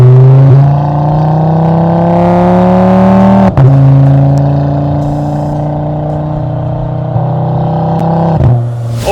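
Audi RS3 five-cylinder engine with a Tone Exhaust system, loud close sustained revs that drop and rise, with a sharp break near the middle and a brief crackle at the end.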